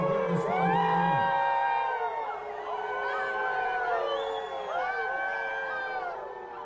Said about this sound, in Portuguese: deu para perceber as vaias claramente aí, algumas falas também